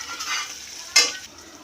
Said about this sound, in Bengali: এই দেখুন, পেঁয়াজগুলো ভাজা ভাজা হয়ে যাক।